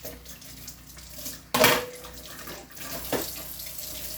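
Water splashes suddenly from a tap into a sink, then runs and sloshes intermittently as chayote is rinsed.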